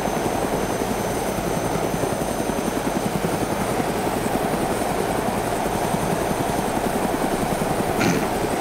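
A helicopter in Arma 2 DayZ, a loud, steady rotor chop and engine drone throughout with a brief higher whine near the end, no talk.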